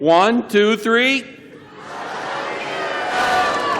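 Commencement crowd shouting "I love you" together after a brief spoken count, the audience's voices swelling into a loud, sustained roar of cheering across a large hall.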